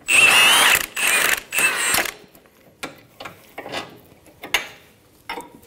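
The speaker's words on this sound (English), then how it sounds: "Use an 18 millimeter socket to remove the nut off of the sway bar link." An 18 mm socket on a ratchet loosening the sway bar link nut on a 2010-2014 Subaru Outback, first several loud bursts of fast clicking, then slower, quieter individual ratchet clicks spaced out, close up with no talking.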